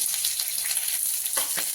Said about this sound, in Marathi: मी कांदा उभा चिरून घेतलेला आहे तो आपण तेलामध्ये चांगला भाजून घेऊया